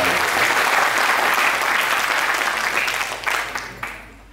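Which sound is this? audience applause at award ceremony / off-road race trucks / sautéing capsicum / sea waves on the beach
audience applause at award ceremony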